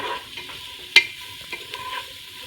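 Onions cooking down in a pan with smoked paprika over medium heat, giving a soft steady sizzle with a sharp utensil knock near one second and a few lighter stirring scrapes.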